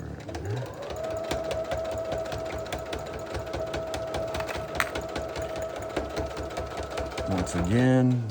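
A sewing machine stitches back and forth over the handles of a vinyl project bag, running as a steady, rapid close mechanical chatter that pauses briefly before a short burst at the end, with a voice talking over the closing moments.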